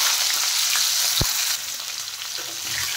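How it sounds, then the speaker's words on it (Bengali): Pointed gourd (potol) frying in oil in a pan, with a dense, steady sizzle and one brief knock partway through. "এখন আমি পটলগুলো ভেজে নেব"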